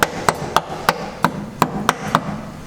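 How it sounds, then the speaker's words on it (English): A hammer gives light taps to a brake pad retainer clip during a brake job on a 2017 Subaru WRX STI, eight sharp metallic ticks at a steady, unhurried pace, close and clear with no talk. "Just grab your hammer and just give it a few light taps."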